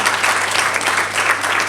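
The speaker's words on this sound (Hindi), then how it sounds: "हमारे वियतनाम के आए सभी मित्रों के लिए भी एक बार तालियां बजा दीजिए" A packed auditorium applauds at a film launch event: loud, continuous, dense clapping from many hands, close and even throughout, with no talk over it.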